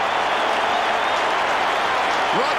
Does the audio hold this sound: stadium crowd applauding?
yes